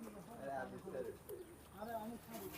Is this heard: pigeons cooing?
yes